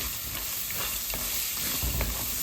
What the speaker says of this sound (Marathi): हा मसालाही तेलावरती परतलेला पाहिजे